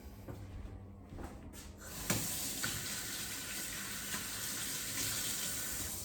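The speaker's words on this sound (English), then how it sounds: "Always washing your hands, keeping your hands clean, like so." Tap water runs steadily into a kitchen sink while hands are washed during cheesecake baking, a continuous close splashing hiss that swells slightly after a quiet start.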